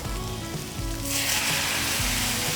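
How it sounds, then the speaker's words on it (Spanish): Broth poured into a hot paella pan of rice with anchovies, a crackling sizzle that swells into a loud, hissing bubbling roar after about a second, with a faint rhythmic scraping or stirring underneath. "Ahora añadiremos el caldo"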